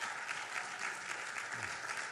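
Steady applause from a church congregation, a dense patter of clapping that holds at an even, fairly soft level throughout.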